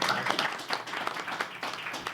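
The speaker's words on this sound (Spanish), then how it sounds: "Aplausillo para ella" A small audience gives brief applause at a book presentation, a short burst of scattered clapping close by.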